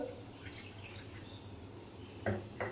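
Water trickles and drips steadily while being poured for a cup of red tea, a soft continuous splash with a couple of brighter splashy bursts near the end.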